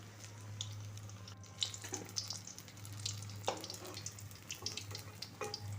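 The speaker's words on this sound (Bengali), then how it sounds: "আমি অন্য পিঠও এভাবে ভেজে নেব, একদম লাল লাল করে ভেজে নেব।" Egg snack frying in a pan, a steady crackling sizzle with a low hum underneath and scattered sharper pops throughout, no voices.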